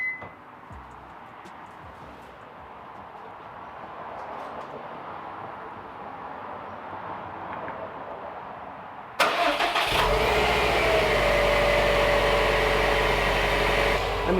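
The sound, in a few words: Subaru WRX STI engine starting after cold air intake install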